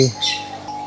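Java sparrows in an aviary give a quick burst of bright, close chirps, a couple of short calls within less than a second.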